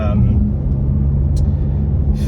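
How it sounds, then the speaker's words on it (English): A tuned 600hp BMW F10 M5 pulls in third gear under gentle throttle, giving a steady, loud low engine drone from inside the cabin that stays even throughout. "Just third gear, like easing onto the, like rolling onto the throttle"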